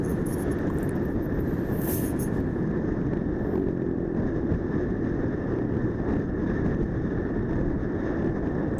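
A single motorcycle cruises along a smooth road on a solo tour, its engine a steady low rumble buried in heavy wind buffeting against the microphone, with no speech.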